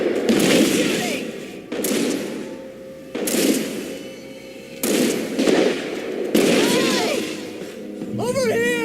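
Gunfire in the video game Alan Wake comes as several heavy, booming shots, each with a long decaying tail, spread across the span, while shouted character voices cut in near the end.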